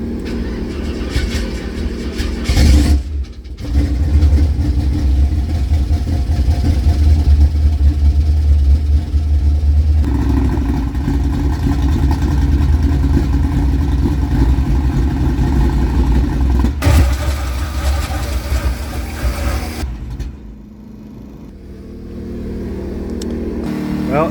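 A used car engine on a stand at a raceway swap meet cranks, fires up and runs, with a loud steady roar that is cut by brief dropouts and ends in a quieter stretch before it picks up again.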